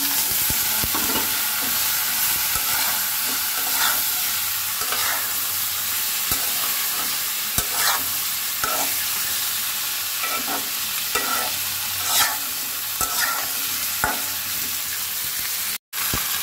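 Mango pieces fry in hot oil with mustard seeds and turmeric, giving a continuous sizzle. Repeated scraping stirs sound up close, and the cooking is heard alone.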